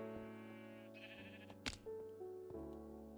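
Minecraft sheep bleating in short game-audio calls over a steady layer of background music and game sound, with a brief sharp effect in the middle of the clip.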